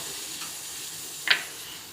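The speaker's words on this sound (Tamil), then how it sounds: "ஊற்றி வச்ச தண்ணி நல்லா கொதிக்குது" Steady, close hiss of water boiling in a pot for drumstick-leaf kuzhambu, with cumin and onion added, and one brief clink partway through.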